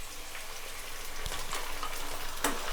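Onion paste for rajma masala fries in oil in a pan, a steady, fairly quiet hiss with a few soft clinks and scrapes and one sharper clatter near the end.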